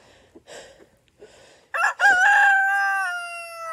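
A rooster lets out one loud, drawn-out crow near the end, preceded by a few soft, scattered chicken noises.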